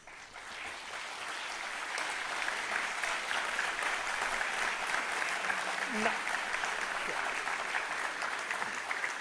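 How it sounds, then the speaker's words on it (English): Parents clapping at a university convocation ceremony in a hall, steady sustained applause filling the room with a faint voice underneath. "Parents can clap for the success of their wards."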